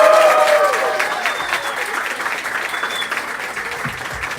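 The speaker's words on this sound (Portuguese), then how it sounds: "Um salve de palmas pra quem é." Crowd applause at a political pre-campaign rally in Bahia, a dense wash of clapping that starts loud and slowly thins over several seconds, with a voice speaking briefly over it at the start.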